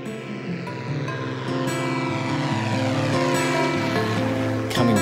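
A light propeller aircraft in flight, its engine and propeller giving a steady, loud, close droning hum with rich harmonics that holds unbroken throughout.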